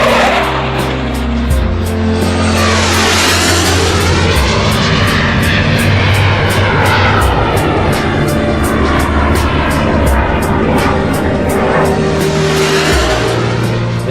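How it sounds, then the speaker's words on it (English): A Sukhoi jet roars loudly and steadily at an aircraft test base, its engine noise sweeping in pitch as the plane passes, with no talk. "This is exactly where all new Sukhoi planes are tested"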